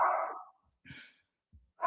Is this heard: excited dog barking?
yes